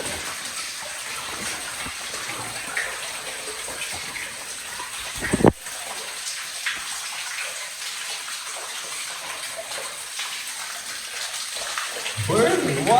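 Water flows steadily through a newly explored cave, a continuous broad wash of rushing sound with one sharp knock partway through and a brief louder splash or movement near the end.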